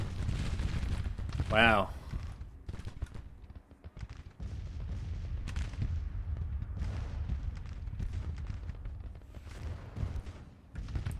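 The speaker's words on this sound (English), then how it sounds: "It's just artillery fire that's been doing those casualties." Artillery fire from a Civil War battle in the strategy game Grand Tactician, heard as repeated dull booms and rumbling volleys throughout under steady low battle noise, with a brief spoken exclamation near the start.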